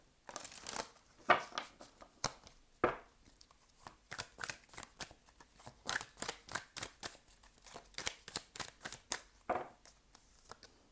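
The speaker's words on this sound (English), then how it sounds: "That was a bad shuffle." Tarot cards being shuffled in a series of quick riffling bursts and soft slaps, close and fairly loud, with an uneven, stop-start rhythm and no talking.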